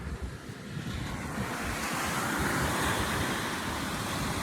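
Waves wash onto a beach with steady wind gusting across the microphone, a continuous loud rushing roar with no pauses.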